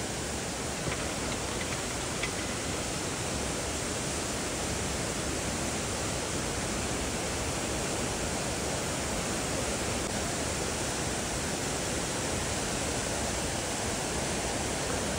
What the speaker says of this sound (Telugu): ఆ జలపాతం వాటర్ అన్నీ అట్లా కింద నుండి పోతూ ఉంటాయి.